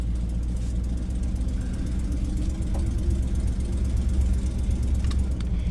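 A motorhome's engine idles with a steady low rumble and mid-range drone as the RV prepares to pull out, holding a constant, fairly loud level throughout with no voices.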